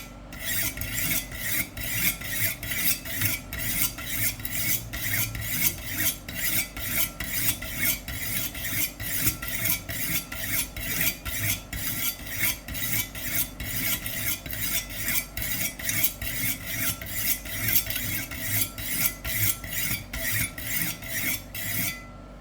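A kitchen knife draws steadily across a 200 grit diamond sharpening stone, giving a fast, even run of close, gritty rasping strokes that continues without pause and without any talk.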